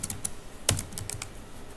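Keys clack on a computer keyboard in a short, irregular burst of typing with one sharper stroke, close and fairly loud, with no talk over it.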